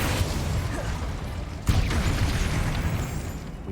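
A Bombarda blast spell goes off in Hogwarts Legacy, a sudden thumping burst midway through a dense, rumbling stretch of game combat noise.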